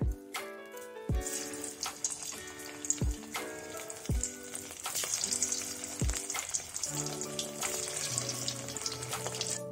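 Potato pieces fry in hot oil for a curd potato curry, a soft continuous sizzle under prominent background music with regular plucked notes, close and moderately quiet.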